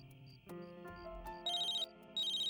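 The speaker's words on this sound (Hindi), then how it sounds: "लगता है किसी का फोन आ रहा है।" A phone rings with an electronic ringtone, two bright warbling bursts over soft background music, moderately loud and close, with no voices.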